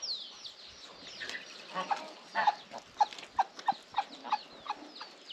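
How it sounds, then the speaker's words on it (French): Turkeys gobbling on a farm in the morning, a run of rapid, rhythmic calls repeating in quick succession at close range, with other birdsong around them. "Et les dindons, vous avez entendu?"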